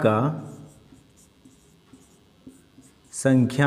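A point being written by hand during a maths lesson on cube numbers, faint soft scratches and taps of the writing tool spaced out between stretches of a teacher's speech at the start and end.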